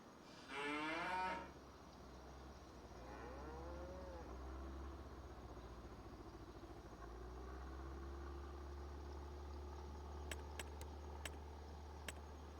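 Cattle mooing inside cow barns in the video game Farming Simulator 25, a loud, drawn-out moo near the start followed by a softer lowing call, over a steady low farm-machine drone with faint clicks later.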